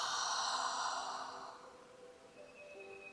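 A long, soft open-mouth exhale during yoga breathing on a mat, fading out over a couple of seconds, close and quiet.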